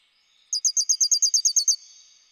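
People vocally imitating birdsong for a dawn chorus piece: a rapid, bright series of about ten even chirps, close and clear, with no other sound behind them.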